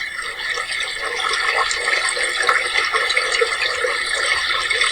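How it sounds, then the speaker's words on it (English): Water babbling as it flows over rocks in a creek, a steady, close rushing and bubbling that carries on unbroken with no voices. "It's a very relaxing sound of water flowing down some rocks in a creek or a river."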